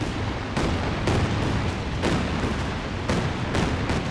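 Gunfire trades back and forth in a Company of Heroes battle, loud and continuous, with heavy booming shots and sharp bursts landing every half second or so across the whole stretch.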